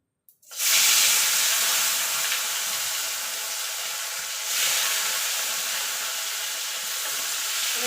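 Parshe fish slid into hot oil for kasundi parshe burst into a loud, close sizzle that swells at once and then holds as a dense, steady hiss, lifting slightly again midway.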